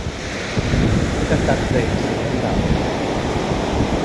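Continuous sea surf and gusting wind at a seaside spot roar loudly and steadily, with wind buffeting the microphone and a voice briefly speaking over it.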